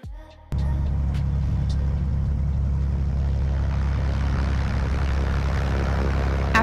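A Cirrus light propeller plane's engine drones steadily up close while taxiing, with a low throbbing hum after a brief click at the start.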